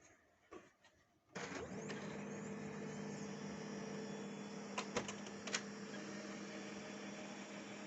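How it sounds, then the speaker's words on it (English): A Samsung CLX-6260 printer jams in tray 1 and fails to feed paper. A few faint clicks give way to a steady mechanical whirring drone with sharp clacks partway through, all close and without talk. "And there we have it, paper jamming."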